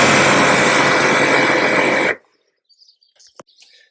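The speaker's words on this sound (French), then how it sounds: "on a branché le Karcher, on l'a purgé, on vient de démarrer." A Karcher K7 pressure washer, just repaired after a burnt-out motor capacitor, runs with a loud steady broadband whine and then cuts off abruptly, leaving faint bird calls and small clicks.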